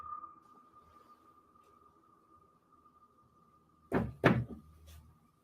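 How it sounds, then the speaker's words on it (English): A few loud, close knocks land in a quick cluster after several seconds of near silence, with a steady faint tone humming underneath throughout. "and the knocking gets louder."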